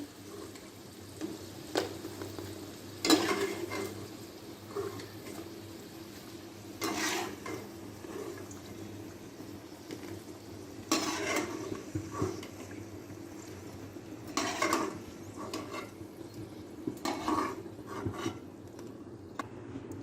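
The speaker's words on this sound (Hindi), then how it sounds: "फ्राई के हुए आलू जो है वो अब हम निकाल लेंगे।" Fried potatoes for an aloo arvi curry are lifted out of a pan of hot oil, with an ongoing sizzle and repeated scraping and clinking of a spoon against the pan, close by.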